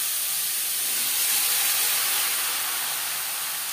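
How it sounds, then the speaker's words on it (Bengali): Marinated banana stem tossed into onions fried until reddish in a pan, producing a steady broad hiss of sizzling that holds evenly throughout with no talking. "এবার দিয়ে দেবো ম্যারিনেট করে রাখা থোর।"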